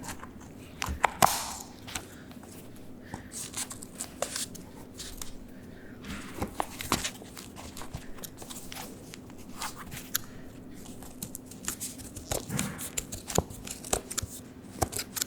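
Scissors snipping and tearing satin off ballet pointe shoes, a series of crisp close cuts and crunches spread irregularly over several seconds, quiet and near, with occasional handling rustle.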